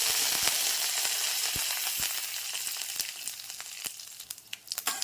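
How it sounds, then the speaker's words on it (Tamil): Mustard seeds splutter in hot oil in a kadai, a dense sizzle broken by sharp scattered pops that grow sparser and sharper toward the end, close and alone. "இப்போ வடைச்சட்டி வச்சு எண்ணெய் ஊற்றி கடுகு போட்டுக்கலாம். கடுகு பொரியுது"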